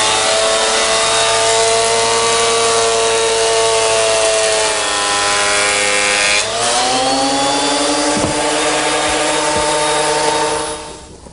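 A 12-inch surface planer smooths the top and bottom faces of a wooden butcher-block blank, a loud steady machine whine with sustained tonal harmonics that shifts pitch partway through as the cut loads, then spins down near the end.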